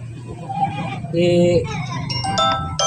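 A television's startup chime plays as the set powers on during voltage testing of a TV stuck in standby, a short melodic tone rising over steady background hum, with faint talk around it.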